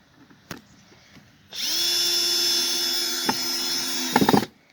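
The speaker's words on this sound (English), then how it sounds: "We're gonna drill a screw in here." A power drill driving a screw into a concrete railing, a few faint taps before a loud steady whine that holds for about three seconds, then stutters and cuts off.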